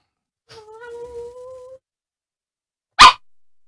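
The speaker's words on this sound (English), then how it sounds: "Dog." A dog gives a drawn-out whining vocal followed by a single sharp, loud bark after a brief pause, close by and with no talk.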